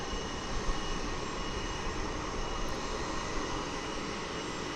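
An American Airlines Boeing 787-9 Dreamliner arriving at DFW Airport from Maui, heard as a steady, fairly distant broadband jet roar that holds evenly without a break.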